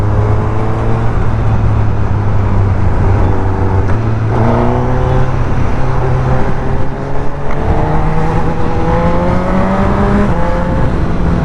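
A Suzuki Katana 1000cc motorcycle engine pulls under throttle, loud and close, its pitch climbing through several gear changes in a continuous rising drone.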